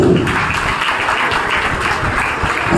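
Dense applause from a school farewell audience, steady and fairly loud throughout, with no speech.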